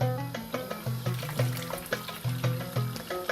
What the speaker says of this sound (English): now we're pouring boiling water